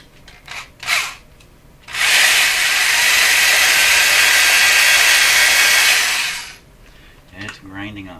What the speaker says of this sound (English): It's hard to grind the rubber, the soft rubber.